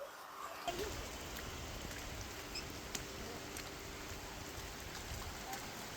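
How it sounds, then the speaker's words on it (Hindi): Heavy rain pours steadily near the Narmada river at Omkareshwar in hilly country, a dense, constant patter and hiss close by with no pauses. "पानी बहुत ज्यादा बरस रहा है"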